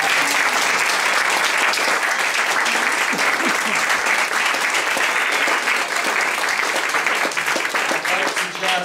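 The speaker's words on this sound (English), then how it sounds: "let's give them a round of applause" Theatre audience applauding the actors, a dense, steady wash of clapping that stays loud and close for the whole stretch, easing only slightly near the end.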